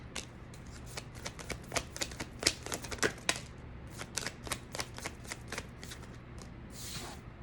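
Tarot cards are shuffled by hand, crisp riffling and flicking in quick irregular bursts, close and fairly quiet in an otherwise still room.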